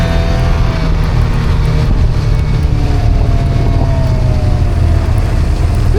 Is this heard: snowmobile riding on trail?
yes